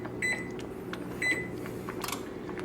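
An oven control gives two short, faint electronic beeps about a second apart as it is set to preheat, over a quiet kitchen background.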